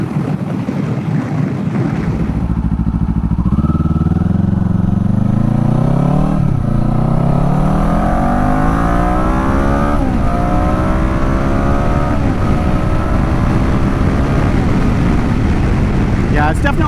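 A 2024 Kawasaki Eliminator 450 motorcycle engine revving and accelerating steadily through rising pitch over a long pull, loud and continuous with wind roar on the road.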